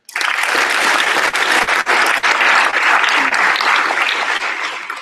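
Loud, dense applause from a large crowd at the 2014 City of Vancouver inaugural ceremony, sustained and even before tapering slightly toward the end, with no voices standing out.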